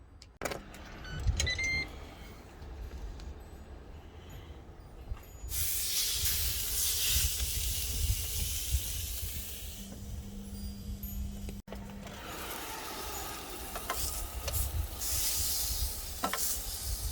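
A seasoned steak sizzles on a grill with a steady hiss that surges louder partway through and carries on with soft crackles, and no talking.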